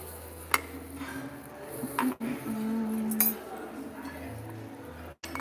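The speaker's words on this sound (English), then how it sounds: "let me grab a spoon" Metal cutlery chinks and clinks as a spoon is picked up from among dishes at an evening buffet in Oman, with a few sharp close clinks over a murmur of background chatter.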